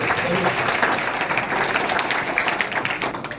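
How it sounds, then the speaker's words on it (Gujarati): Applause from an audience at a community welfare program in Gandhinagar, welcoming guests onstage: a dense, continuous patter of many hands that stays at an even level throughout. "તાળીઓના ગડગડાટથી વધાવીશું।"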